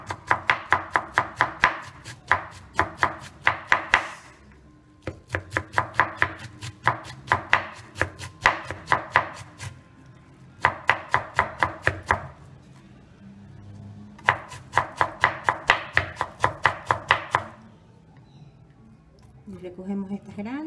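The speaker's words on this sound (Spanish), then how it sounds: "Aquí también la va a cortar lo más finito que pueda." A knife finely chops onion and vegetables for a refrito on a cutting board, striking in quick rhythmic bursts of sharp taps separated by short pauses, with a voice talking quietly underneath.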